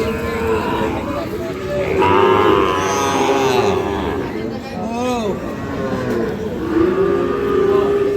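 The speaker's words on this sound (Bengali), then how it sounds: "দেখি আরো কিছু গরু দেখছি" Sahiwal bull calves moo repeatedly at a busy cattle market, with drawn-out calls rising and falling over steady crowd chatter and people talking nearby.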